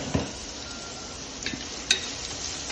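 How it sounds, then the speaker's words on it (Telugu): Onions frying with a little salt in a pan, a soft continuous sizzle with a few sharp clinks of a spoon against the pan, one near the start and a brighter one toward the end. "ఆనియన్స్ బాగా ఫ్రై అవ్వడానికి మనం కొంచెం సాల్ట్ వేసుకొని ఫ్రై చేసుకుంటే త్వరగా"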